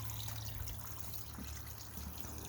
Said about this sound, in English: It's only really a trickle, right?